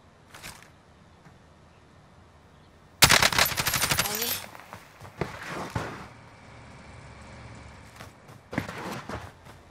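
Automatic gunfire in the video game Warzone, a loud sudden burst of rapid shots followed by scattered quieter shots and bangs over a low background, with a faint voice at moments.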